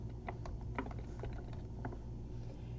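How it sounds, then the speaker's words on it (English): Quick bursts of typing on a computer keyboard, several light clicks in irregular rhythm over a low steady hum, close and fairly quiet. "We're going to type in the words Works Cited"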